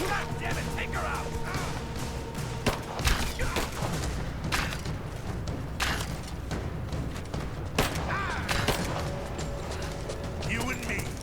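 Dense gunfire in Rise of the Tomb Raider, sharp cracks and bursts repeating irregularly through a busy combat mix, with voices shouting over the shooting.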